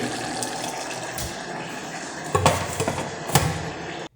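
Water poured onto rice for khichdi, a running splash and gurgle under a low background hum, with a few sharp knocks and clatters of a pot near the end.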